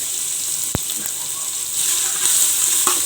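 Steady hissing sizzle of ginger garlic paste frying in hot oil with browned onions, a sharp clink of a utensil and faint stirring noises, no voices.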